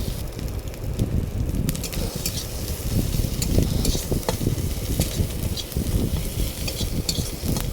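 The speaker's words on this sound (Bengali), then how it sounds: "মশলাটা ভালো করে কষাতে হবে এবং কষিয়ে নেবো" Spice paste (masala) frying in a pan with vigorous stirring, a loud close sizzle and crackle with constant scraping strokes and a rumbling low hum underneath, no speech.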